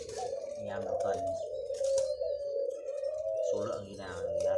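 Japanese collared doves cooing with repeated soft, steady calls running through the whole stretch, close and moderately loud, alongside other faint bird sounds.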